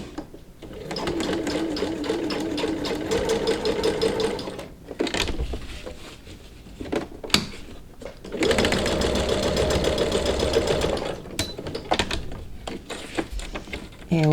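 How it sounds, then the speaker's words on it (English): Sewing machine runs in two long bursts, straight-stitching a ribbon headband seam with elastic sandwiched inside; a steady close motor whir with a short pause between the runs. "And we'll make the same straight stitch all the way down."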